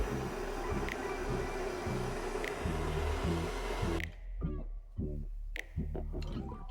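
A heat gun blows a steady, loud hissing drone onto a Toyota Tundra lower control arm bushing, then shuts off about two-thirds of the way through, leaving faint clicks and handling sounds.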